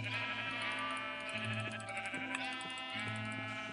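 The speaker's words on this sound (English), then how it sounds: "A sheep. I want your wool." Minecraft sheep bleating repeatedly in a steady, wavering chorus, close and fairly loud, with no talking.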